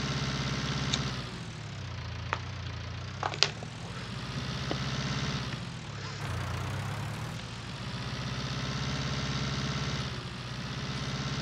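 A tractor engine runs steadily in Farming Simulator 19, a New Holland machine, with a low droning hum throughout and a few brief clicks and knocks over it.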